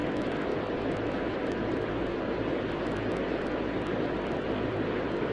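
Steady airplane engine roar from a jet taking off in the Tower!3D Pro air traffic control game at Atlanta, a constant broad rushing drone with no break.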